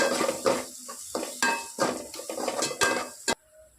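Coconut, fennel, tomato and onion sautéing together in a pan, with repeated close scraping and clinking of a spatula against the metal over a light sizzle, ending abruptly.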